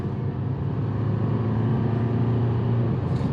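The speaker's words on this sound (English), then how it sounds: "you wide open throttle, you hit that pedal to the metal, and it gets the turbo singing" Chevrolet Colorado ZR2 with the Duramax diesel under wide open throttle, a steady, loud low engine drone with a rising turbo whine, heard close up from inside the truck.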